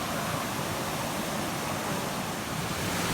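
Steady, broadband rush of flowing river water, constant and fairly close, with no voices or other sounds.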